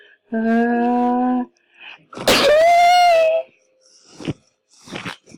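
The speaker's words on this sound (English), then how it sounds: "Never talk about that sneeze ever again." After a steady droning tone, a loud burst of breath breaks into a strained, wailing vocal sneeze, followed by a few short, softer breathy noises.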